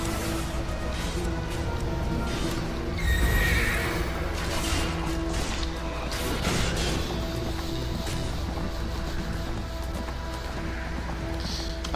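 A horse mount in the Neverwinter video game neighs loudly and at length, with hoof clip-clops and game background sounds around it.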